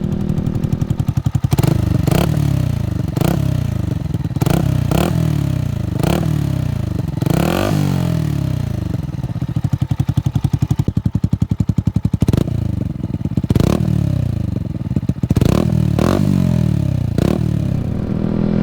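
A loud, raw Yamaha MT 125 motorcycle engine revs repeatedly with no exhaust silencer, rising and falling in pitch with a harsh, crackling unmuffled roar close by.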